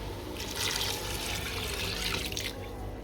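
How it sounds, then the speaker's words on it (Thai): Water pours steadily from a tap into a cooking pot, a continuous close splashing stream with no one speaking. "แห้งแล้วเติมน้ำครับพี่น้อง"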